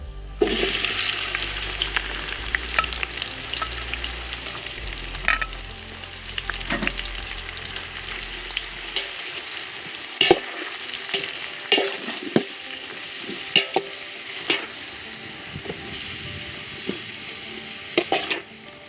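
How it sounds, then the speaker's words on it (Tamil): Sliced onions sizzle in hot oil with cardamom and cloves for chicken dum biryani. A steady close frying hiss leads into repeated scraping stirs and sharp utensil knocks against the pan. "இப்போ வெங்காயம் பாதி அளவு வதங்கிருச்சு இன்னும் நம்ம நல்லா வதக்கிக்கலாம்"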